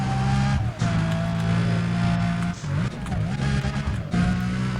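A race car in Need for Speed: Undercover accelerating hard through a sprint, engine note climbing through several gear changes with brief dips, loud and continuous, with short tire squeals.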